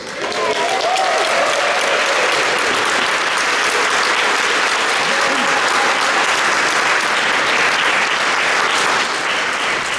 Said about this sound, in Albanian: Kemi nevojë për një duartrokitje të fortë për aktorët.